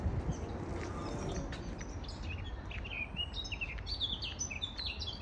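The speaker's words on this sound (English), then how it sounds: "The birds." Birds chirp and sing in repeated short, high calls outdoors on a nature walk in Barnes, London, fairly faint against a steady background of open-air rumble, with no talking.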